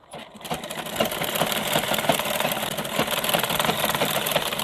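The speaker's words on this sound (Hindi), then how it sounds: "ये डबल मशीन चलाने से ये कभी सिलाई खुलती नहीं है नीचे ऊपर।" A double-stitch sewing machine runs a blouse seam with a steady, fast mechanical whir and rhythmic needle clatter. It holds a constant pace for several seconds, close and with no talking.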